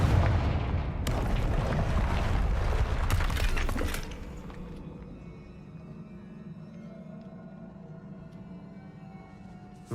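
A fiery Confringo spell blast in Hogwarts Legacy, a heavy explosive roar with crackling debris lasting a few seconds, then dropping to a low rumbling ambience.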